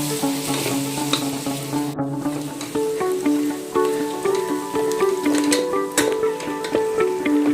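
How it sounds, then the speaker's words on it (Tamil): Vegetables for a biryani sizzle and fry in hot oil as they are stirred, with steady crackling and scraping of a spoon against the pan, close and loud with no speech. "ஒரு 5லேருந்து 10 நிமிஷத்துக்கு நல்லா இந்த மாதிரி எண்ணெயில் நல்லா வதக்கிக்கோங்க."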